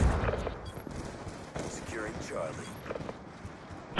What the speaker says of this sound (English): Oh, I got killed by a sniper.